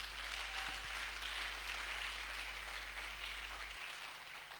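A congregation at a church service applauds, a steady, fairly distant wash of clapping that holds evenly throughout without fading.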